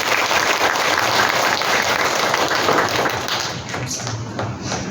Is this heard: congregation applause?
yes